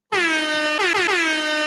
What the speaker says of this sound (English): we'll even give you an air horn